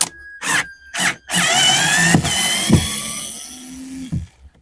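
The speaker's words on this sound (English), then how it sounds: "Telling you guys, get a drill." A power drill removes long screws from a BMW X1 E84 rear door panel, whirring in short bursts with rising and falling motor pitch, close by, punctuated by a few clicks and knocks.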